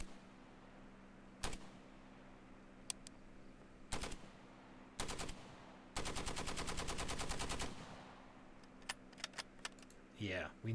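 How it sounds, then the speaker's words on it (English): AK-47-style gunfire effects in a Unity game play back quietly as sharp single shots and a rapid automatic burst, separated by pauses. "It's very AK-47-ish."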